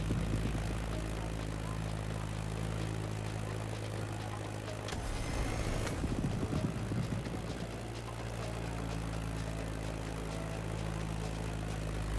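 A Beechcraft Staggerwing propeller plane in The Crew Motorfest drones with a loud, steady engine hum that holds throughout, roughening briefly midway before settling back to an even, close-up whir.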